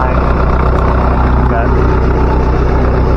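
Caterpillar D2 bulldozer diesel engine idling close by after a low fuel pressure repair, a steady, even low rumble throughout with no change in speed.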